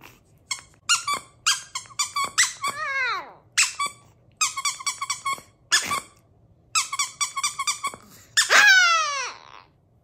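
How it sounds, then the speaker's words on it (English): A squeaky garden gnome dog toy is squeezed in rapid bursts, clusters of sharp high squeaks with a few drawn-out descending wheezes, loud and close with no speech. "It's a squeaky toy. It's a squeaky garden gnome."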